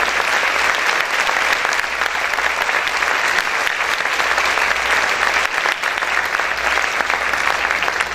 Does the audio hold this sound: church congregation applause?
yes